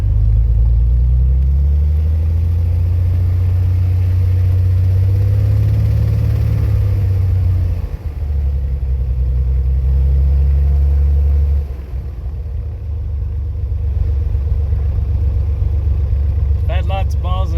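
A light airplane's engine runs on the ground with a loud, steady low rumble that dips briefly partway through, while someone speaks over it.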